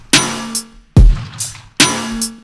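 Three layered hits pair a synth bass with a snare drum in an electronic track. Each hit has a sharp attack, a buzzy tonal body and a bright noisy tail. The middle hit carries a deep low thump, all close and punchy.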